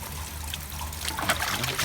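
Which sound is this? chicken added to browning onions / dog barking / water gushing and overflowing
water gushing and overflowing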